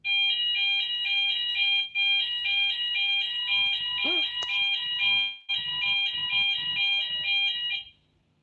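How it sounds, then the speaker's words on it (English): A fire alarm blares in a loud, steady, high-pitched electronic tone that breaks off briefly twice before cutting out near the end, with a voice speaking under it in the middle. "So, uh, fire alarm."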